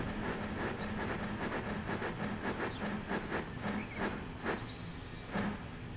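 A train in the Transport Fever 2 video game rolls into a station with rhythmic clacking of wheels over rail joints, a background hiss and brief squeals as it slows, quiet and without talk.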